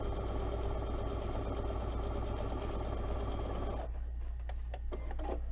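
Domestic sewing machine stitching a 1/4 inch seam at a 2.0 stitch length in quilting cotton for a zipper pouch, running as a steady fast hum and clatter that stops abruptly, leaving quiet handling sounds.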